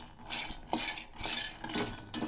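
Dry chutney powder ingredients roast in a pan, a utensil scraping and clinking against the metal in several short bursts with quiet gaps between, no voices.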